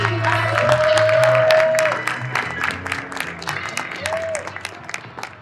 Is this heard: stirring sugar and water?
no